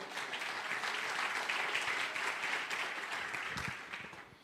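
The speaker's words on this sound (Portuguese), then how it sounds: "Você pode dar um aplauso aí pela palavra do Senhor?" Church congregation applauding during a sermon: a dense, sustained wash of many hands clapping at moderate distance, steady for several seconds before tapering off at the end.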